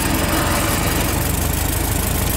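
Ford Model T engine running steadily while the car backs up under slight throttle, a close, loud, even low chugging hum with no voices.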